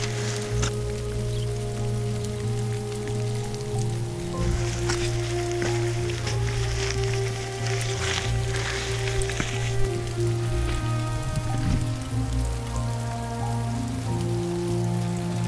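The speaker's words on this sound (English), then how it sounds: "it's already started raining" Steady rain pattering on surfaces nearby on a mountain in Europe, with a constant low hum underneath and scattered drips.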